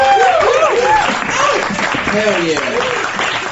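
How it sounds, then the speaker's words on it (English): On a comedy podcast, a loud, continuous wash of applause runs under someone speaking excitedly over it. "Let's get a better applause, please, for my ego"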